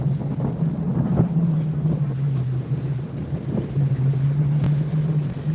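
Steady wind rushes past a sailboat making about five knots in nine knots of breeze at night, with a low continuous drone and buffeting on the microphone, no talking.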